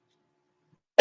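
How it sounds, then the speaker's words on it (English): A single short throat clearing bursts out abruptly at the very end after near-total silence, close and fairly loud. "Trying to clear my throat."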